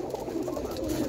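Roller pigeons cooing softly and continuously in a loft, low murmuring calls blending together at close range with no talking.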